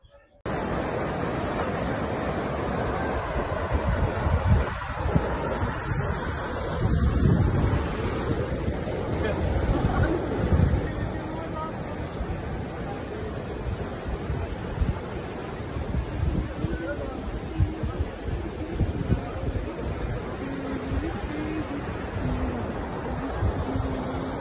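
A small waterfall at Sautada in Beed, Maharashtra, gives a continuous close rushing roar. Faint voices murmur in the background.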